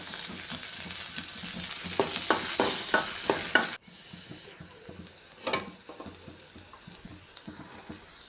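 Finely chopped onions fry in hot oil in a pan for masala paniyaram, giving a steady crackling sizzle with rhythmic stirring scrapes. Midway the sizzle dips abruptly and then carries on more quietly.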